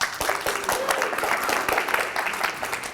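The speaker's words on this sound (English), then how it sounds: "Round of applause, everybody." Audience at a vape expo keynote applauding, a dense, continuous wash of clapping filling the hall evenly without pause.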